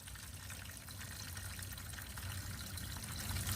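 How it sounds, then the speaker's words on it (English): Water flows steadily with a soft rushing and trickling wash that grows slightly louder, low in level with no voices. "The water's flowing backwards here."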